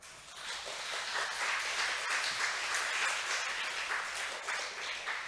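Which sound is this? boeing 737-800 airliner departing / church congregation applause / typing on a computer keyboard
church congregation applause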